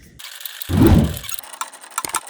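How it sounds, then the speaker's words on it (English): A ratchet tightens the bolts of a dual-battery mount in a Jeep JK: a short burst of rapid metallic clicking, then a louder grinding turn, and a few quick clicks at the end, close and with no speech. "I'm just going to tighten these bolts up."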